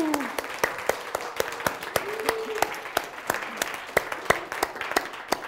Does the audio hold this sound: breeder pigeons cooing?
no